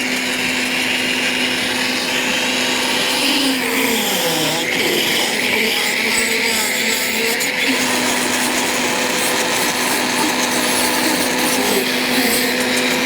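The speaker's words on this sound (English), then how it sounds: "as you can see, power carving could be kind of insane as far as how fast you can really start to rough something out" A power carving tool roughing out a piece of wood, a loud continuous grinding whine that holds steady throughout with slight shifts in pitch as the cut changes, heard alone without talk.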